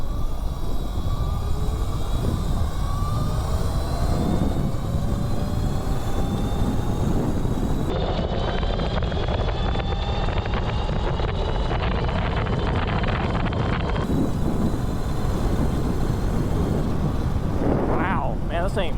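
A modified mini bike with a strong, torquey engine runs at top speed, its engine note rising and holding high under heavy wind rush buffeting the microphone.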